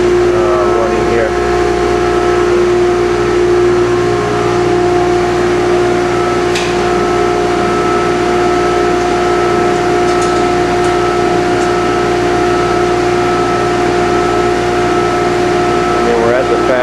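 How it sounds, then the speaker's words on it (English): Steady loud electromagnetic hum of a vibratory feeder running at fast speed, its rear vibrator shaking carbon-based material through the tray, a constant buzzing drone with faint rattling and no break across the whole stretch. "But the feeder's operating right now, you know, with no moving parts. It's for the vibrator in the back running here."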